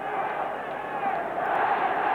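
Dense football crowd packed behind the goal at Hillsborough during a Sheffield Wednesday match, a steady roar of massed voices with a commentator talking over it.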